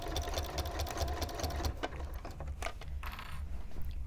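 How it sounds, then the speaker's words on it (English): Sewing machine with a walking foot stitching binding around a quilt, running steadily and close for the whole stretch with a dense mechanical whir and rapid needle clatter, no voices. "And then we are just going to sew around the quilt."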